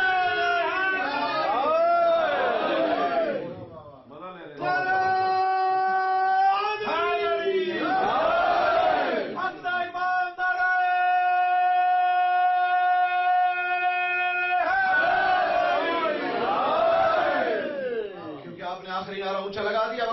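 At a Muharram majlis in Denmark, a congregation raises a religious chant (naara) in loud, swelling waves of many voices that alternate with a sustained held tone and the speaker's voice.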